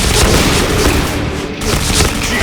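A grenade explodes in the Point Blank first-person shooter game, giving loud, close, booming blasts layered with gunfire-like crackle, one deep burst dipping briefly midway.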